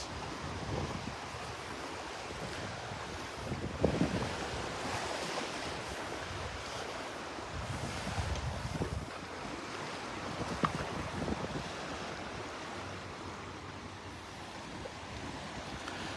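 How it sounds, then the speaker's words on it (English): Small waves wash gently onto the beach at Delnor-Wiggins on a breezy Christmas Eve morning, a faint, continuous surf hiss with soft rolling swells and light wind buffeting the microphone. "These waves, these little waves have got to settle down before that water clears up"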